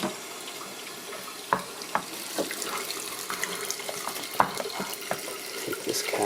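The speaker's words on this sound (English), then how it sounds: "you just got to fill this up with hot water. Let's turn the water on." Tap running hot water into the tank of a Bissell Little Green cleaner, a quiet steady splashing stream with small clinks and bumps scattered through it.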